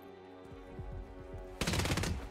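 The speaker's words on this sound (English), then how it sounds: "I keep thinking people will hear gunshots." Hitman 3 gunfire: a few spaced shots followed by a sudden loud burst of rapid fire, heard over low game background sound.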